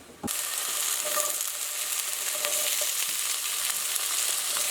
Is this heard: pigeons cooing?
no